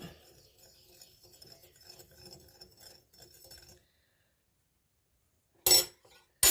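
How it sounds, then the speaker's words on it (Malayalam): Spoon scraping and clinking against a pot as sugar is stirred into boiling milk for mango ice cream, a steady rubbing rhythm for a few seconds, then silence and two sharp loud bursts near the end. "മധുരം ഇട്ട് നമുക്ക് നന്നായി ഇളക്കാം"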